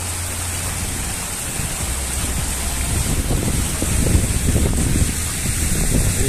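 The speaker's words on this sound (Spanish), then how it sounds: "Y si escuchan agua, pues es porque está aquí la fuente en él." Water from a fountain in the historic centre of Guadalajara makes a steady outdoor wash and splash, mixed with wind buffeting the microphone and a low background rumble.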